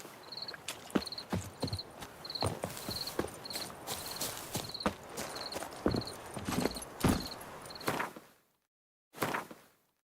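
Roach the horse trots on hooves in The Witcher 3, a steady, close clip-clop rhythm that runs for about eight seconds with a faint repeating high chirp, then stops, followed by one brief final burst.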